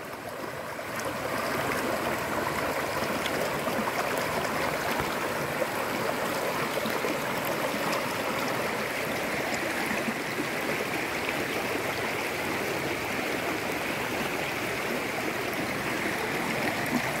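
A river stream flowing through a village, a steady, full rushing of water that holds constant and close throughout, with no voices over it.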